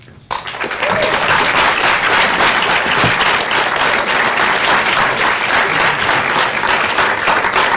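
Applause from a school conference audience swells in after a short quiet moment and holds steady and loud, a dense continuous wash of many hands clapping.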